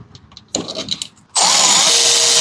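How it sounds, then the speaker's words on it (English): Cordless power drill driving screws back into a wood chipper that had been buried under a house; brief rattling handling sounds, then a loud, steady high-pitched whine of the drill running continuously, close up, without talk. "Now let's put our couple screws back in here."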